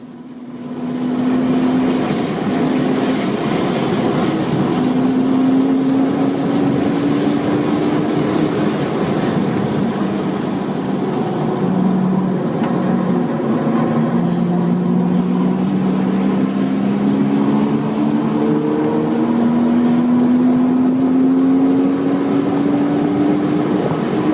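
A Porsche race car engine drones loudly and continuously on the counter-clockwise course at Texas World Speedway. Its pitch climbs steadily through each gear and drops at the shifts, with heavy wind and road roar from inside the car.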